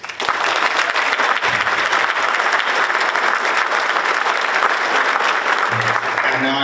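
Loud, sustained audience applause at a high school spring orchestra concert, dense clapping in an auditorium holding strong from start to end, with faint voices near the close.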